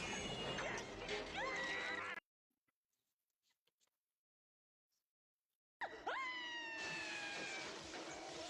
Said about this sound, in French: Je peux pas vous montrer, il y a un beau chat blanc.